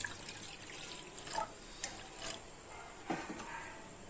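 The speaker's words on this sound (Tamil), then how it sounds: "இப்போ ஒரு கிளாஸ் தண்ணி சேர்த்துக்கலாங்க." A glass of water poured into a pot while making dry ginger coffee with coriander seeds, heard as a short splashing pour with scattered clinks and knocks, close by and without speech.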